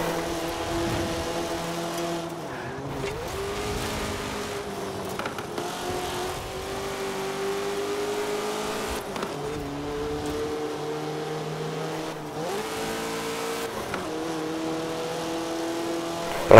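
A slow front-wheel-drive rental car drives in Forza Horizon 4, its engine droning steadily and rising in pitch, then dropping with each gear change, over a long continuous stretch with no talking.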